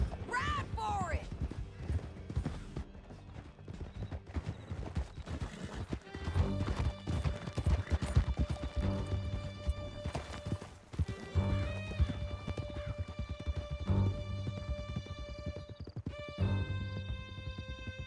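Horses gallop with steady clip-clop hoofbeats through a Red Dead Redemption 2 chase, loud and continuous, with occasional whinnies and a musical score underneath.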